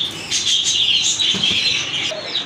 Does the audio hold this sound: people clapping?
no